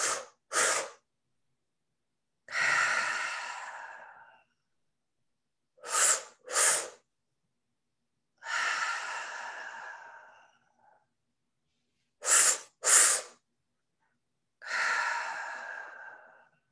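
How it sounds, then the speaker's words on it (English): Breathing exercise with two short, sharp inhales followed by one long, heavy exhale, the pattern repeating three times; close breath sounds alone with no talk. "1 big exhale."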